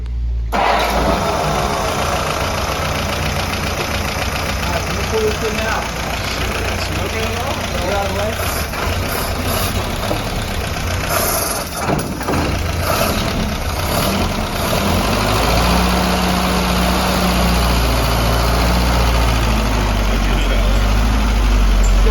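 A Willys CJ3B jeep engine, just back together after a head gasket repair, runs loud and close as a steady, rough idle with a deep low rumble. People talk over the engine throughout.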